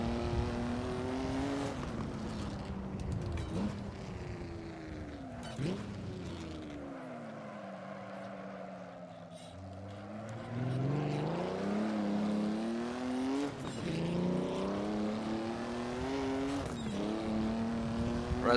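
Engine of a Mercedes-Benz W125 race car in a racing video game, droning loud and steady for the whole stretch, its pitch sweeping down and back up through gear changes and braking before rising again under acceleration.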